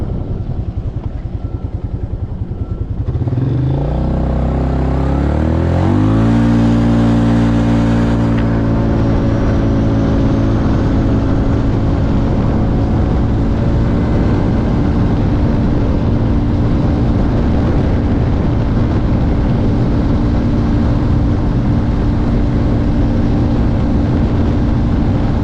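A Polaris Scrambler 500 ATV accelerating up to top speed, its engine revving up within the first few seconds and then holding a loud, steady, close drone through to the end.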